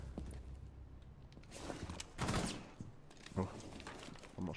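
Gunfire in the tactical shooter Rainbow Six Siege, heard as scattered bursts and a louder cluster of shots among quieter in-game noise and footsteps, with no one talking over it.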